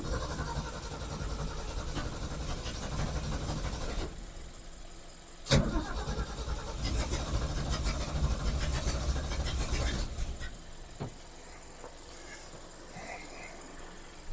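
A Ford Falcon engine cranks and catches, then runs roughly with a rising surge before settling toward an uneven idle, close by, while someone talks over parts of it.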